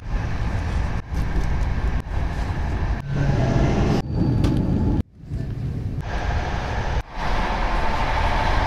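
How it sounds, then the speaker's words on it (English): Steady rumbling and rattling of a moving train heard from inside a carriage on a route in Poland, with periodic clunks and a brief dip in noise midway. "just made it on this train going to Lublin"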